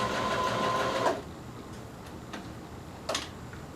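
A sewing machine stitches slippery bikini fabric in one quiet, fast-whirring burst lasting about a second, followed by faint ticks and small clicks in a near-silent room.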